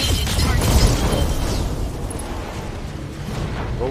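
An enemy mech blows up in Star Trek: Judgment Rites, a 1993 Interplay game, with a loud, close explosion that bursts at once and then fades into a long, rumbling decay.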